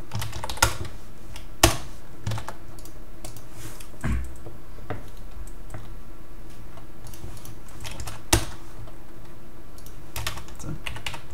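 Computer keyboard typing with scattered key clicks and a few louder isolated strikes, steady and fairly close, with no talking.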